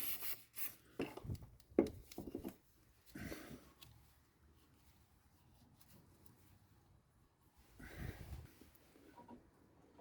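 A Honda HF2213 ride-on mower deck is rubbed down with cleaner, giving close, irregular rasping strokes in short bursts separated by quieter pauses.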